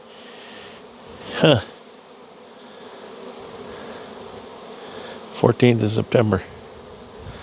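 Honeybees buzz densely and continuously at the hive entrance as foragers bring in pollen, a steady swarm drone; someone speaks a few brief words over it.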